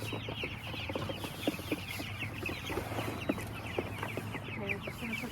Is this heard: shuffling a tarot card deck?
no